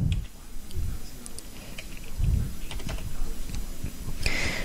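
A user name is typed on a computer keyboard during a Linux Mint 9 KDE installation, with a close, rapid patter of key taps and a few heavier thumps over faint room noise.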